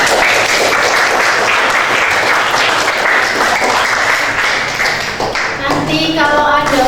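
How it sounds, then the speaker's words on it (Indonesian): Sustained applause from an audience thanking presenters at a school coaching and academic supervision session, dense steady clapping filling the room for several seconds before thinning out, with brief voices and tones near the end. "Itu kita semua beri aplaus untuk kalian semua"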